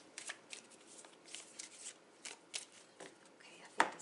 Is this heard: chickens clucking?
no